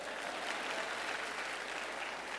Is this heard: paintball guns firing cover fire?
no